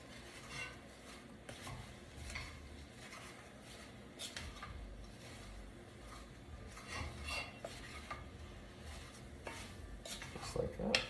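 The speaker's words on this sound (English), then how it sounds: "And then I'm just going to stir this around." Flour mixture gets stirred in a pan with a spoon, a continuous scraping and rubbing with occasional clinks against the metal, close and steady throughout, no talking.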